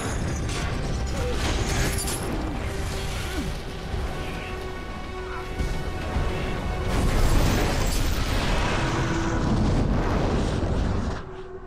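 Fireworks going off inside a warehouse, a dense, loud continuous crackle and roar of bursts and pops that swells toward the end, with no clear speech.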